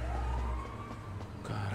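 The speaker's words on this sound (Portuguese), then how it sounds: "É uma ambulância, passou lá embaixo" Ambulance siren in the GTA V crime game wailing as it passes somewhere below, a rising and falling tone of moderate loudness over low rumbling game ambience, with no talk.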